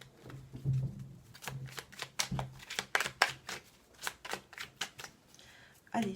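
A deck of tarot cards being shuffled, a rapid series of crisp riffling snaps and papery slaps close by, with a faint low voice murmuring underneath at moments.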